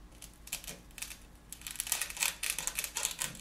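A knife cuts through foam along the hat line of a figure, giving close, irregular scraping and crinkling strokes in uneven bursts that grow busier toward the end.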